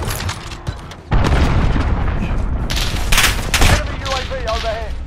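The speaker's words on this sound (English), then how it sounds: "Enemy cruise missile incoming." A cruise missile strike in the video game Call of Duty: Modern Warfare lands as a heavy, sustained boom rumbling for several seconds, mixed with crackling gunfire bursts and game voices in the loud battlefield din.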